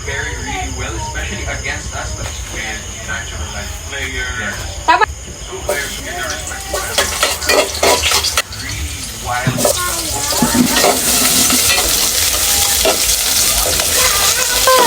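Loud sizzling and frying in a pan with stirring scrapes and clatter, a few brief bumps, sizzle intensifying toward the end.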